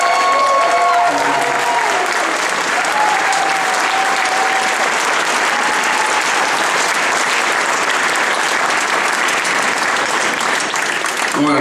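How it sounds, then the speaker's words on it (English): Concert audience at the finale of a concert applauding the singers, a loud sustained roar of many clapping hands and crowd noise, with a brief sung or tonal note early on. "please, please give a great big round of applause to all the singers that participated"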